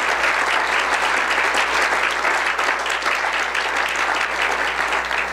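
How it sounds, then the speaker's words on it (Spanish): A church congregation claps loudly and continuously at a Spanish-language service, a dense, even roar of applause filling the room for several seconds. "denle fuerte al Señor ese aplauso, hermanos amados."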